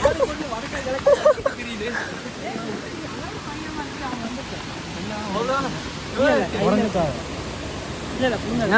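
The roar of Atla Waterfalls in Kerala rushes and hisses continuously beneath excited voices of people talking nearby.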